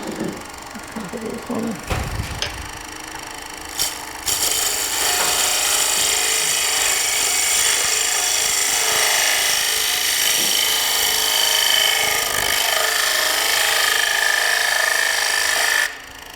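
A shop-made wood lathe spins a spindle chuck while a turning tool drags a shear scrape across the wood, a steady broadband rasping hiss that runs loud and continuous for most of the stretch after a few brief knocks.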